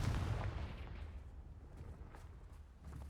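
Confringo fire spell cast in the Hogwarts Legacy video game, a booming blast at the start that decays into a rumbling low roar, loud and alone with no talk.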